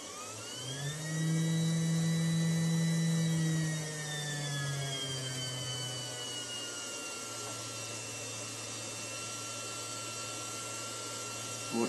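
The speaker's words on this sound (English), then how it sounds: "Motor's running nice and smooth." A weld positioner's electric motor runs at full speed, giving a steady, loud whine whose pitch rises at first, holds, then eases lower as it keeps spinning smoothly. Nobody speaks over it.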